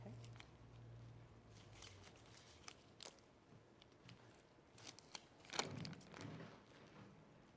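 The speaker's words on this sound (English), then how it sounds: "scissors, why don't you go ahead and open it up?" Scissors snipping open an evidence package in a courtroom, a series of quiet, close crisp cuts and crinkling packaging over faint room hum, with no talking.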